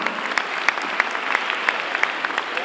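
An audience applauds the runner-up at a spring song festival in Lercara Friddi, with steady, dense clapping and a few sharper claps standing out, moderately loud and with no talk over it.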